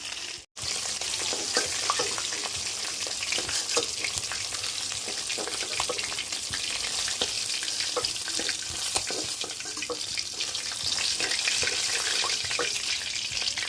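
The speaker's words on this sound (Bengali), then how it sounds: "দেখুন বন্ধুরা, মাছগুলো ভাজা হয়ে গিয়েছে" Pieces of fish frying in hot oil in a pan, a continuous close crackling sizzle with dense spitting pops that holds steady throughout, with no talk.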